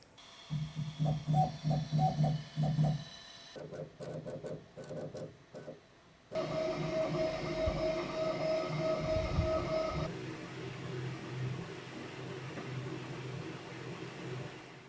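A Bambu Lab 3D printer hums and whirs as its X-axis carriage moves back and forth in quick rhythmic bursts, without scraping, shifting into steadier motor tones.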